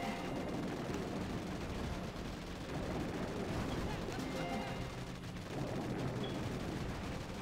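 Mortar blasts and steady gunfire in the Boom Beach mobile strategy game, a loud, continuous barrage of rumbling impacts and shots filling the whole stretch without a break.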